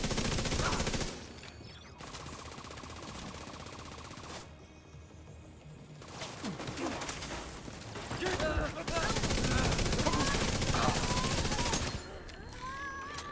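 Rapid automatic gunfire erupts in bursts during video game combat, loud and close, with pauses and shifting intensity between volleys and some mechanical clatter.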